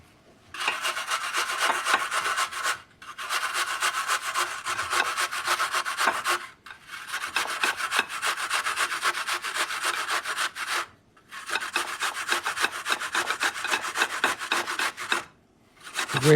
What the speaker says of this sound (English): A typical box grater. We're going to use the large edge of it.